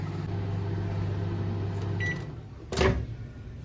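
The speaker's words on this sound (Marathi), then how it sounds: "मी शेंगदाणे भाजून घेते दहा मिनटं लावलेलं आहे" A microwave oven roasting peanuts hums steadily with a low motor drone, then stops with a short beep and a clunk as the door opens.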